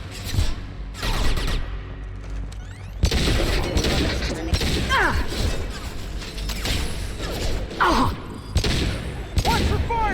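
Gunfire in a Mass Effect 2 firefight: several sharp, loud shots and bursts spaced irregularly, with impacts and combat noise filling the gaps.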